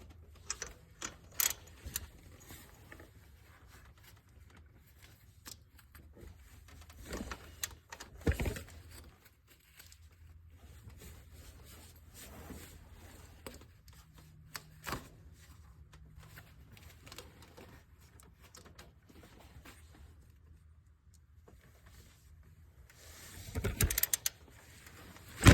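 A ratchet wrench cranks down the belt tensioner on a Chevy engine during a water pump job, giving sparse, faint mechanical clicks and ratcheting with quiet gaps and a few louder clacks near the end.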